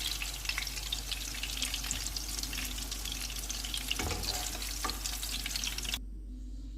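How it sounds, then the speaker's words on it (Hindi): Chicken chapli kebabs fry in a pan with a faint, steady hiss and occasional stirring clinks, cutting off abruptly near the end into quiet. "साथ साथ हम डालते जाएंगे कबाब। ये कबाब दोनों साइडों से फ्राई हो चुके हैं।"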